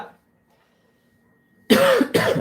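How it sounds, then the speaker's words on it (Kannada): After a brief silence, two strong, close coughs from a person with a cold, in quick succession, the first longer and rougher than the second. "ಲೈವಲ್ಲಿ ಕೆಮ್ಮ ಬಂದರೆ ಒಂದು ಸ್ವಲ್ಪ ಕ್ಷಮೆ ಇರಲಿ"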